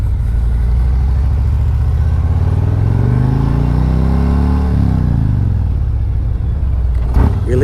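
A motorcycle is ridden during a hard-braking and swerve drill. Its engine drones loud and close, the pitch rises and then falls as the bike slows, and a brief clatter comes near the end.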